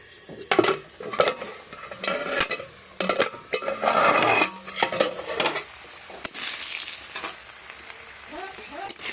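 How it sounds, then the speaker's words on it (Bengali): Potatoes frying in oil in a pan, with a steady sizzle broken by several loud clanks and scrapes of a utensil against the pan; the lid goes on partway through and the hiss softens. "আলুগুলোকে আমি একটু ঢাকা দিয়ে ভেজে নেব"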